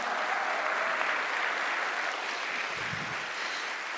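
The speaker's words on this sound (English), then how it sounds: "Let's have another round of applause." A theater audience at a ballet farewell performance applauds in a dense, steady roar of clapping that carries through the whole stretch, with a faint low thud near the end.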